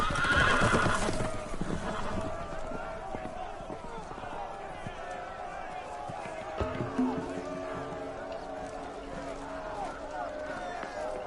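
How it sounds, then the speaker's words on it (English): Loose horses in a Game of Thrones video game whinny and neigh loudly at the start, then hooves clatter in a running rhythm under shouting voices and scene noise. "The horses! They're loose!"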